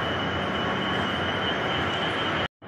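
A train rolling through Katihar railway station in Bihar, a loud continuous rumble of wheels and carriages with a faint high squeal, cutting off abruptly at the end.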